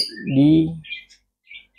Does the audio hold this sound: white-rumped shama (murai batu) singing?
yes